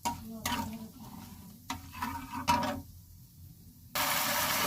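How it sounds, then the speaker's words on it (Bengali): Chicken with spices, ginger and garlic is stirred in a pan, with a few distinct scraping strokes over a soft sizzle, then a louder burst of frying noise at the end. "এখানে চিকেনটা কষতে দিয়ে বসিয়ে দিয়েছি, ভালো করে কষিয়ে নেব।"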